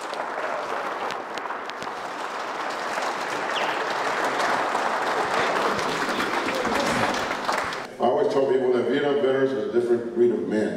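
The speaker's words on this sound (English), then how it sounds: "could we have one more huge round of applause for the folks" A large audience at a National Vietnam Veterans Day 2023 ceremony gives sustained, loud applause for the Quilts of Valor organisation, with dense clapping throughout and a voice speaking over it toward the end.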